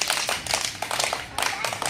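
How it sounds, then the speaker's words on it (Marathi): A group of children clap their hands in quick rhythmic bursts, several claps per second with short pauses between rounds, sounding close and lively. "आता तुमच्यासाठी छान टाळ्या वाजवा बरं"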